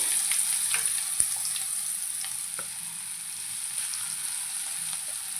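Green chillies frying in hot oil for spicy dahi kadhi, a steady sizzle with occasional small pops and stir clicks, close and continuous, with no talking.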